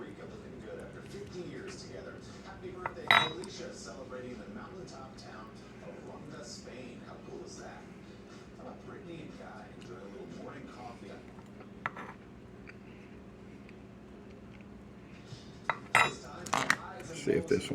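Utensils clink and scrape against a pot of freshly cooked red beans, faint and sporadic with a few sharper knocks near the end, beneath quiet talking.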